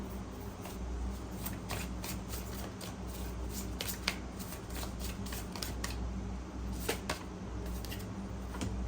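Tarot cards shuffled by hand before a single card is drawn: a steady run of soft, quiet, rapid crisp clicks and riffles over a low background hum, with no speech.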